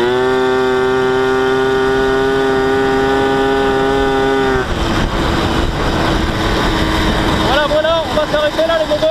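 Tomos and Peugeot moped engines run close up, first a steady high-pitched buzzing drone for about five seconds, then a rougher, lower running sound with a brief revving rise near the end.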